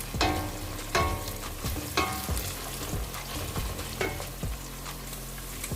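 Onions frying in a pan for kadhi pakora, turning light golden, with steady close sizzling and periodic bursts as they are stirred, no talking.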